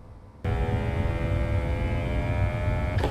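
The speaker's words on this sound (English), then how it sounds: "All right, so it's taking the clean water and it's going inside the robot vacuum." Switchbot S10 robot vacuum pumping clean water into itself at its refill station: a sudden start into a steady, loud mechanical whir and hum that runs on continuously with no voices.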